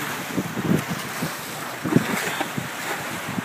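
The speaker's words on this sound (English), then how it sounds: "Here we are, sailing with the kite, going towards Quonset." A sailboat runs under a kite sail heading toward Quonset, with wind buffeting the microphone, water rushing and slapping against the hull, and a steady, loud roar.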